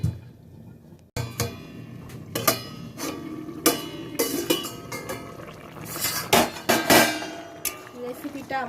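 A lid is set onto a pan of jackfruit and prawn curry, giving clattering metallic clinks and knocks among other kitchen handling sounds, fairly close and moderately loud, with no talking.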